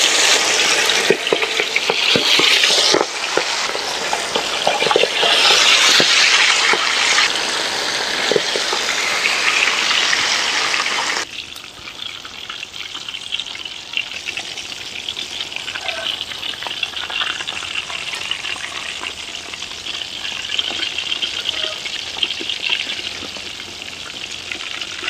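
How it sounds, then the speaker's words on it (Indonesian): Catfish sizzles steadily in hot oil in a pan, a loud continuous crackling hiss that softens partway through, with no voices. "Untuk lelenya kita goreng dulu."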